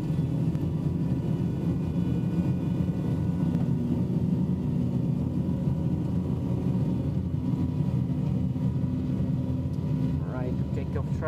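A DC-9 airliner in a flight simulator rolls for takeoff, its jet engines giving a steady, loud, continuous roar and rumble that holds throughout with little change.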